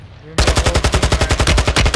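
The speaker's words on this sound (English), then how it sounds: "Having a gun battle over there." Rapid bursts of automatic gunfire in a Warzone 2 gun battle, loud and close, starting abruptly after a brief quiet moment and continuing in a steady rattling rhythm.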